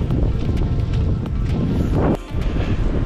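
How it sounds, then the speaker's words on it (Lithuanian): Strong wind on a cloudy mountain summit, buffeting the microphone in loud, continuous gusts with a brief lull near the end. "vėjukas pakilo"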